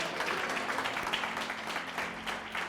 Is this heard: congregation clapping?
yes